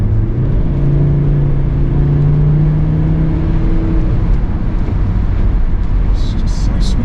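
A Volvo V70 D5 diesel estate driving, its engine and road noise forming a loud, steady drone heard from inside the cabin, with engine tones rising and falling smoothly as it pulls through the gears.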